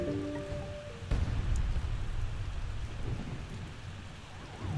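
Steady rain from a video game thunderstorm, with a deep rumble of thunder rolling in about a second in and the downpour holding loud and even throughout.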